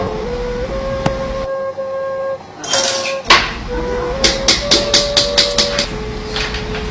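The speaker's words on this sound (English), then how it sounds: "she works that seam by compressing it inward with the paddle" A wooden paddle taps a clay ZiSha teapot seam inward during handmade teapot shaping: a run of about eight sharp, evenly spaced knocks with a few scattered earlier hits, all over a steady tonal background.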